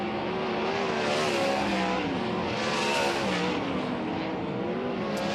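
Sprint cars racing around Wayne County Speedway with the High Limit Sprint Car Series, a steady wall of high-revving engine howl from the field, pitches rising and falling as cars swing past at moderate distance.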